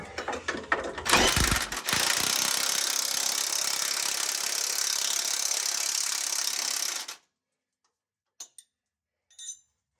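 Ratchet wrench tightening the rear shock bolts on a 2001 Ford Expedition, a steady dense mechanical clicking run for about six seconds, then a few brief faint clicks after a pause.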